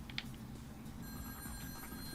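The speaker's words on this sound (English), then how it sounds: "I can hear a phone ringing" A telephone rings in the video game Sparky Rush Purrils in Pawsville, a thin, steady electronic tone that starts partway in and keeps going faintly over a low game background hum.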